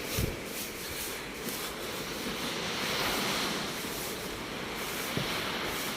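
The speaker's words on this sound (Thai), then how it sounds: "ได้ยินเสียงคลื่นไหมครับ เป็นไง" Ocean waves wash onto the shore at a beach resort in the early morning, heard as a continuous, fairly faint roar of surf mixed with wind and no voices.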